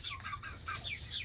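Hens and new chicks fed grain-and-seed feed give soft clucks and small chirping calls, several short bursts across a second, fairly quiet with a low background hum.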